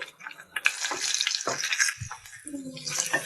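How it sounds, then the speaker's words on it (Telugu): Onion pieces fry in a pan with green chillies, a hissing sizzle broken by stirring clatters, with someone talking over it. "ఉల్లిపాయల ముక్కలు వేసుకున్నాం కదా, ఇవి దూరగా ఫ్రై అవ్వాలి"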